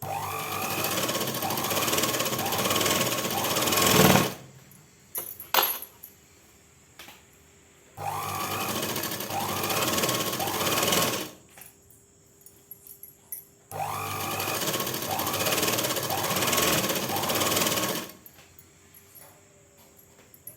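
A tailoring sewing machine stitches the waistband onto churidar pant fabric in three loud bursts of about four to five seconds each, separated by quieter pauses with fabric handling and small knocks.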